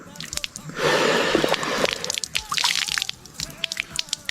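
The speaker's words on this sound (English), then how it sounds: "Perfect pour." Liquid is poured with a close, hissing splash lasting about a second, followed by scattered wet drips and squishy plops that taper off.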